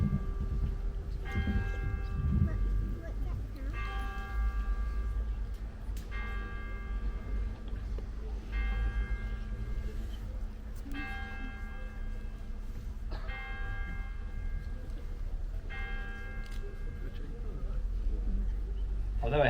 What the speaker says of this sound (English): I've never heard so many bells in all my life.